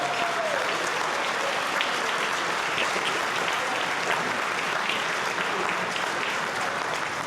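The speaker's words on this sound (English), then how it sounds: "Yeah, let's give them a big round of applause." A crowd at a charity gala applauds honorees with sustained, even clapping at moderate volume, holding steady throughout without a pause.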